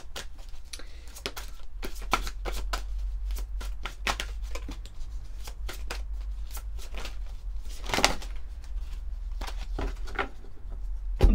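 Oracle cards are shuffled steadily, giving a long run of quick, crisp riffling flicks that repeat close to the mic with no talk over them.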